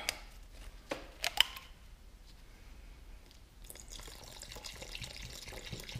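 A few light clinks, then a soft, steady trickle of apple cider vinegar pouring, quiet and close.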